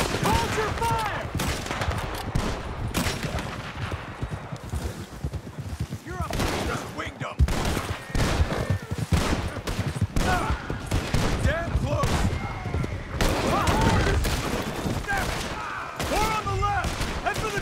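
Dense, continuous gunfire from a Red Dead Redemption 2 shootout, with overlapping rifle and pistol shots cracking nonstop at close range, mixed with shouting voices.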